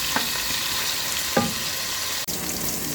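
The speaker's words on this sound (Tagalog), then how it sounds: "magisa na luya" Ginger sautéing in a hot pan for chicken curry, a steady crackling sizzle with a few soft stirring scrapes.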